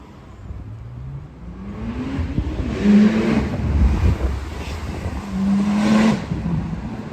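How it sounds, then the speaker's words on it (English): A Porsche driving past on a city road in Los Angeles, its engine rising and fading in a couple of swells over steady street traffic noise, moderately close, with no speech. "That Porsche didn't want to be in a 2-lane situation, huh?"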